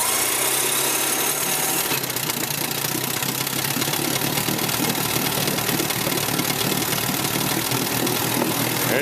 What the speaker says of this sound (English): her fully restored Johnson 18 outboard is about to be tested